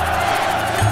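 A crowd cheers and shouts together in a short, loud, continuous burst, a scene from a Korean superhero drama where onlookers react to a girl's strength.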